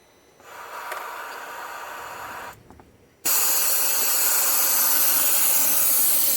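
A vacuum coolant refill tool on a 2013 BMW X5 35i E70 gives a steady hiss of rushing air that begins, pauses briefly, then returns louder and continues strongly to the end, with no voices.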